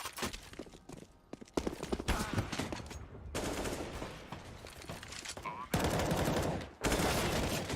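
Rifle gunfire in CS:GO on the Train map rattles in dense rapid bursts and single cracks, loud and continuous, with short pauses between volleys and no talk.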